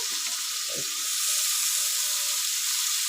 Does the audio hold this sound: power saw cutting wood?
no